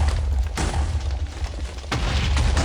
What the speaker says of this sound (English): I don't care how many times you say explosions are normal, those are not.